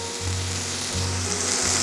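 Chicken pieces coated in spicy lemon garlic masala frying in a pan, a loud, continuous close sizzle with a low steady hum underneath, no voices.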